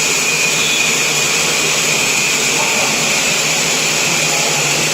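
A GREAMAT 805 CNC turning lathe runs at a constant pitch, a loud, unbroken mechanical whine and whir close by, with faint tonal hums layered through it.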